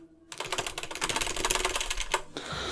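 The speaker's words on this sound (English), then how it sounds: "I'm just typing. I'm hitting enter a lot." Rapid typing on a computer keyboard fills the clip, a dense, steady run of close clicks with a few heavier strikes like the enter key being hit, after a brief quiet start.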